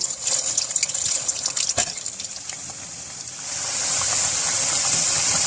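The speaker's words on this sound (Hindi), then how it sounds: "इस गर्म ऑयल के अंदर जो हमने आलू स्टीम जिनको दी है इनको फ्राई कर लेंगे।" Steamed potatoes deep frying in hot oil in a kadai give a steady, close sizzling hiss that swells louder and denser in the latter half, with no talking.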